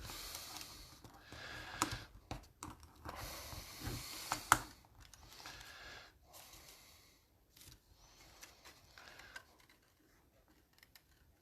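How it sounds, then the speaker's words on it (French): Paper is folded and its creases pressed firmly while making an advanced folded card, with soft scattered rustles, crinkles and scraping strokes close by, loud and quiet by turns. "On plie. On marque bien nos plis."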